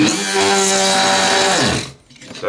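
A drill boring into the rivet of a Victorinox pocket knife, a steady high whine at moderate speed running for under two seconds before winding down and stopping.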